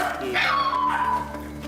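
A puppy at a dog breeding farm gives a short yip and high whimpering whine, close and fairly clear, with people talking around it.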